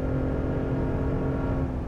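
2022 Ford F-150 Raptor engine running in a steady deep rumble, a continuous loud drone from start to finish, close and with no talking.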